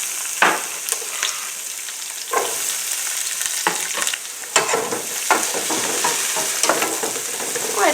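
Cut pieces of meat sizzling and frying in a pan for a Philly cheesesteak pizza, a constant hissing crackle with intermittent stirring scrapes and clatters, close and fairly loud, no speech.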